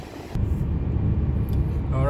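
A 2001–06 Chrysler Sebring cruising on a freeway gives a steady, loud low rumble of road and engine noise from inside the cabin, with a voice heard over it.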